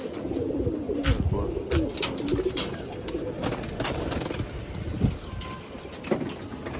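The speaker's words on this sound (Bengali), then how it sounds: "মাশাল্লাহ, তোতা কবুতর" Tota pigeons coo on a farm, a low warbling murmur running throughout with scattered clicks and flutters over a breezy background, close by with no clear speech.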